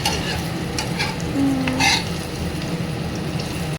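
Spiny gourd sizzling steadily in hot oil in a pan, with a few scrapes of stirring, close up and continuous.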